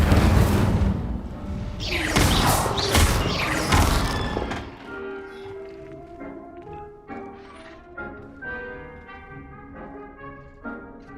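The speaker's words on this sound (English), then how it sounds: "Just toss the cabbages at it, and they'll do the rest." Cabbages hurled at a training dummy in a video game land as a burst of loud thuds, crashes and whooshing impacts over the first few seconds, then fade into quieter clattering and scattered tones.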